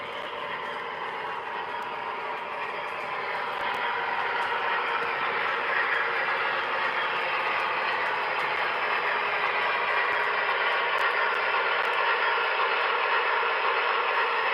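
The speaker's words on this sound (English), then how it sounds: "For some reason, the train likes to stop there." A Lionel model train, a Northern 4-8-4 type, runs steadily on a home layout, giving a continuous close rolling rumble and hum that grows slightly louder partway through.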